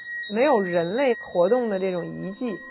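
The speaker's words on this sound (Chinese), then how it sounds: "如果不是有报警器在一直传来那种报警的声音" A radiation detector alarm near reactor 4 at Chernobyl gives a steady, continuous high electronic tone throughout, running beneath close, loud speech.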